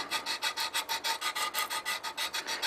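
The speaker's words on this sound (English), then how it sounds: "give it a couple of strokes of the sander" A hand sander scrapes back and forth over a square wooden bowl in a steady run of about fifteen quick, even strokes, close and alone.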